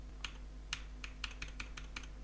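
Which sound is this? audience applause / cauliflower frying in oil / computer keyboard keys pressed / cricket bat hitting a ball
computer keyboard keys pressed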